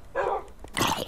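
A Minecraft wolf dog gives two short, close barks, loud and alone with no voices over them.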